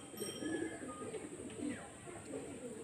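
Several old-line Shira pigeons coo in repeated low, rolling phrases, fairly quiet and close together, over a constant faint hiss.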